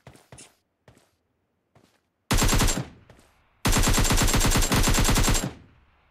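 Automatic gunfire in PUBG Mobile, aimed at other players: a few short isolated shots, then two long, loud, rapid bursts of sustained fire, close and with no talking.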